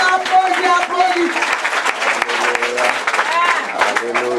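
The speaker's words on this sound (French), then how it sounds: "Applaudis la délivrance." A church congregation in Haiti claps along in steady rhythm while voices sing over it, the applause mixed under loud, continuous singing throughout.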